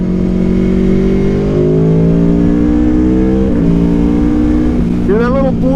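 A 2018 Aprilia Tuono Factory with an Akrapovic slip-on exhaust revs up loud and close, its rising drone broken by a quick-shift blip and a short burble; a voice talks over the engine.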